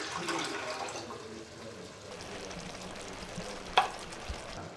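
About 2 3/4 cups of water pour steadily into a pot for shepherd's pie with a broad rushing hiss, followed by a couple of brief clinks near the end.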